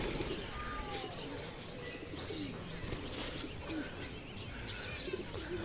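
A young white pigeon on a rooftop gives faint, soft coos against a noisy open-air background, quiet and somewhat distant.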